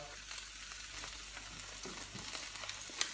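Steaks sear in a hot frying pan with a soft, steady sizzle and crackle, faint and close, with a small clink near the end and no talk.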